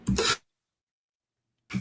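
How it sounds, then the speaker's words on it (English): A single short cough, followed by silence, then the start of another brief throat sound. "I just had to cough for a second"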